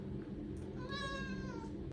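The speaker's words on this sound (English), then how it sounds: "He's my cat." A pet cat meows once in the middle, a clear, drawn-out cry over a low indoor background hum.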